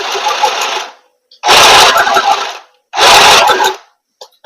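A mini sewing machine stitches in three loud bursts, the first fading out and two more starting abruptly, each whirring for about a second and a half with short silent pauses between.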